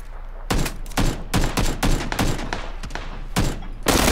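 Gunfire exchange in PLAYERUNKNOWN'S BATTLEGROUNDS, a rapid series of sharp, loud shots in irregular bursts, some nearly back to back, ending in a heavier cluster of reports.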